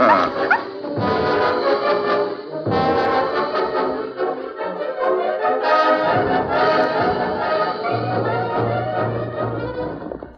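Dog barks and yips in quick bursts over a dense orchestral music score in a 1947 Lone Ranger radio drama, fairly loud and continuous throughout.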